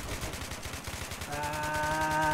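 Rapid gunfire from a gun in Minecraft fires as a fast, evenly spaced run of loud shots, joined midway by a sustained electronic tone under the shooting.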